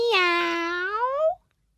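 A single drawn-out meow, a voice mimicking a cat, clear and close, rising slightly before it cuts off.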